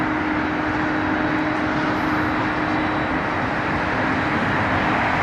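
A China Airlines Cargo Boeing 777 freighter landing at LAX, arriving from Taipei, gives a loud, continuous, steady engine roar with a broad rumble throughout.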